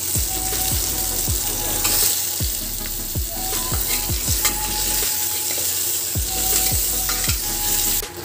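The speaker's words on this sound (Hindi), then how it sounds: "अब मैं इसमें डाल दूंगी अंडे, थोड़ा फ्राई भी हो जाएंगे" Eggs frying in a masala with chopped onion and garlic, a steady close sizzle carrying repeated scraping stirs of a spatula against the pan, no voices.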